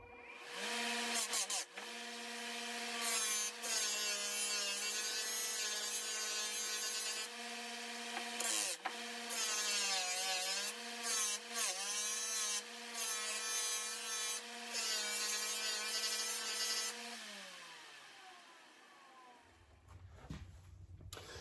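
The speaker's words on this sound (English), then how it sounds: "start buffing this thing, start on the coarse with the pink" A coarse pink buffing wheel works a metal piece toward a mirror finish, with a steady motor whine and a close rubbing hiss that holds for about seventeen seconds before spinning down. No one speaks.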